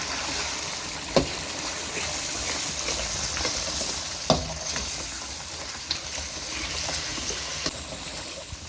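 Beef karahi with whisked yogurt is stirred in a hot sizzling pan. A continuous loud frying hiss runs underneath, broken by a few sharp knocks and scrapes of the spoon against the metal.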